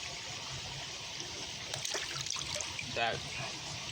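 A steady trickle of water pouring, close by, with a brief voice and light clatter near the end.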